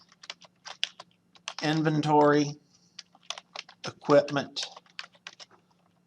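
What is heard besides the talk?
typing on a computer keyboard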